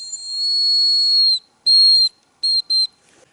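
A hunter's decoy whistle for hazel grouse gives a long thin high-pitched note, then a shorter one and two quick chirps, clear and close against near silence.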